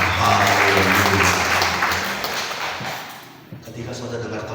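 Congregational applause at a church sermon service, a dense steady wash of clapping that fills the room, then thins and fades out toward the end with a few scattered claps.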